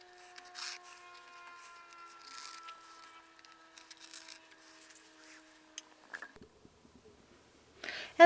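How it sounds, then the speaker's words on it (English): Masking tape peeled slowly off watercolor swatch paper, a soft continuous rasping rub with faint tonal squeaks lasting several seconds, then a pause and a sharper close scrape at the end. "we'll do a tape pull"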